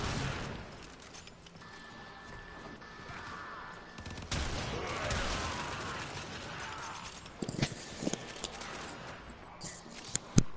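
Gunfire in the sci-fi shooter Warframe, with dual weapons in use: a dense, busy bed of rapid shots and mechanical clatter over about ten seconds, growing sharper near the end with a few louder close cracks.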